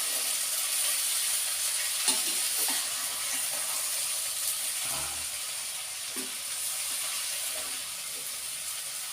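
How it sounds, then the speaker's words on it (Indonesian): Long beans, tempeh and spices stir-fry in a pan for tumis kacang panjang, giving a steady close sizzle broken by occasional scrapes and clatter of stirring. "dicampur dari mulai kacang panjang sampai tempe dan bumbu-bumbu biar tercampur semua dulu"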